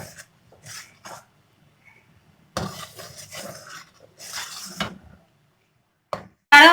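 A metal spoon stirs thickening milk barfi mixture in a pan on a stove over low heat, with intermittent scraping and clinking in short bursts and quiet gaps between them.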